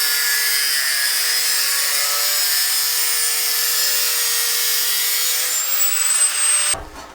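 A power tool whines at a high, sustained pitch as it trims excess length off the turbo exhaust stack pipes on an eight-turbo Mustang, running loud and steady before cutting off abruptly near the end.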